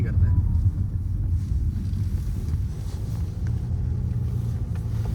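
An Audi A6 climbs fast up a steep mountain road, its engine a steady, close, low rumble with wind buffeting throughout.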